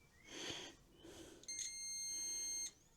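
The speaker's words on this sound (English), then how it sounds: "If I've got this right, so the meter's beeping." A multimeter beeping on a continuity test, with two short tones followed by a longer sustained electronic beep, fairly faint against quiet room background.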